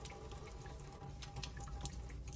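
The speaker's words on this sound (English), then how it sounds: "You're gonna take the giant paintbrush, put it under the water, and quickly go ahead and just rinse away the paint." Steady stream of tap water running over a giant paintbrush in a school art-room sink to rinse off paint, a soft continuous splash with no one speaking.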